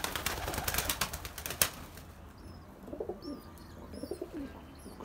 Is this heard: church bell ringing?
no